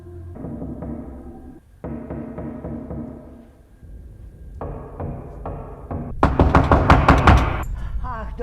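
An elderly neighbor knocks on a house door in a horror thriller film scene, with a quick cluster of sharp raps near the end. The knocks follow quieter tonal sounds and are fairly loud.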